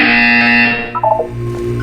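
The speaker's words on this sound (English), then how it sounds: "You will hear a buzzer." A loud electronic buzzer tone from the video game Portal 2 sounds for under a second, followed by shorter lower blips and a low hum.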